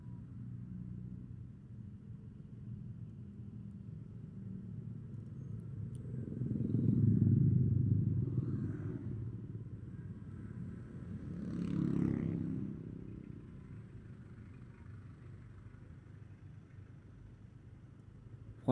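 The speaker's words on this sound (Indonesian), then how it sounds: "Ada yang mobil dari arah gang mau menggok atau yang mau keluar, kadang ya bikin macet seperti ini." Slow traffic jam of cars and motorcycles on the Tawangmangu tourist road during the New Year holiday, a low engine rumble that swells twice as vehicles pass close, then settles to a quieter idle hum.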